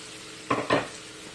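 Rice dropped into a hot pan for Yangchow fried rice, two quick rustling, sizzling bursts close by as the grains hit the oil, then quiet.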